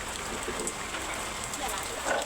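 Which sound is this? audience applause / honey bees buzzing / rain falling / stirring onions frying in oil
rain falling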